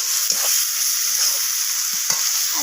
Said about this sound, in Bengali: তো সমস্ত কিছুকে একটু নরম হয়ে যাওয়া পর্যন্ত আমি ভেজে নেবো এখানে